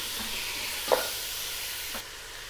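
Tomatoes being stirred and cooked in a hot pan for mutton yakhni pulao, a steady soft sizzle with a single scrape of the spoon near the middle, heard alone at close range.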